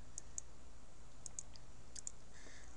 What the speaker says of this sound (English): So I click on Next.